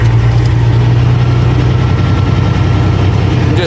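A log truck's heavy diesel engine rumbles loudly and steadily while climbing a steep, muddy switchback logging road on the yarder side, a deep continuous drone with no voices.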